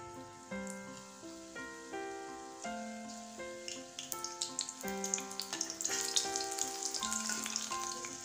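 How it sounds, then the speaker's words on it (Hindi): Chilli pakoras deep-frying in hot oil, giving a steady, bubbling sizzle that runs throughout beneath louder melodic background music. "अब हम तलेंगे मिर्ची, बनाएंगे मिर्ची पकौड़ा"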